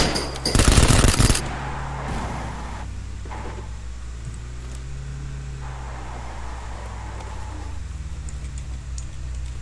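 A short, loud burst of rapid gunfire in PUBG on the Vikendi map opens, followed by a quieter mechanical hum and faint game sounds with no speech.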